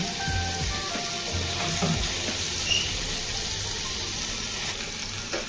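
Prawns fry in hot oil for a chili prawn dish, with a steady, close, hissing sizzle and a few faint bubbling pops, and no talking.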